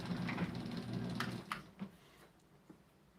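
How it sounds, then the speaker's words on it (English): A garage door is pushed open in a space with rain outside, giving a few short metallic clunks and rattles after a steady low hum, followed by quieter scattered knocks. "Let me open up this garage door a little bit too."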